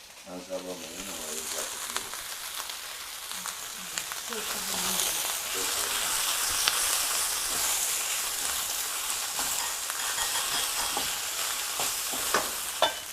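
Noodles frying in a pan give a loud, steady sizzle with scraping and clattering as they are stirred, rising in intensity partway through, while a person speaks intermittently underneath.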